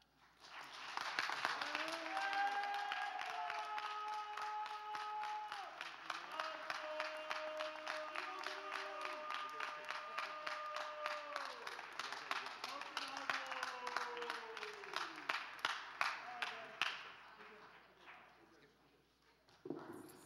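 Applause and cheering from an audience at a school board meeting, sustained clapping with tonal whoops and shouts over it, fading out toward the end.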